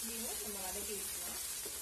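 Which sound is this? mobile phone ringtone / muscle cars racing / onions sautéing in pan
onions sautéing in pan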